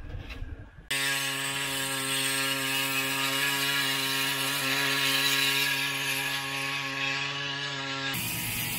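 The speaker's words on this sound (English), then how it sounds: "We snuck back into the big shop so we can use the big boy welder because this is gonna take some juice." A big shop welder runs in one long, steady, loud buzzing burst lasting several seconds, a rough hum with a strong electrical tone throughout, starting and stopping abruptly with no talking.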